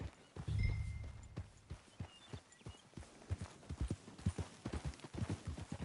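Horse hooves clip-clop on hard ground in the video game Red Dead Redemption 2, starting slow and uneven, then quickening into a rapid rhythmic gallop, moderately close with faint background ambience.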